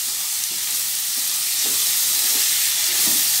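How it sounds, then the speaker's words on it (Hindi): Raw dal sizzling and frying in hot oil, a steady loud hiss with soft stirring scrapes now and then, heard alone without talk. "ये मेरा कच्चा दाल है तो थोड़ा सा इसे भून लेंगे अच्छे से तेल में"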